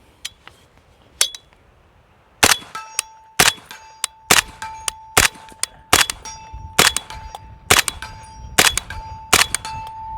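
A PSA KRINK rifle fires 300 Blackout rounds in a rapid string of about a dozen sharp, loud cracks, with metallic pings from brass and steel ringing between shots.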